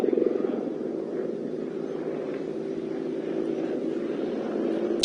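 A propeller aircraft flying aerobatic manoeuvres at the Cosford Airshow gives off a steady, loud engine drone that holds at a constant pitch for the whole stretch, heard from a distance.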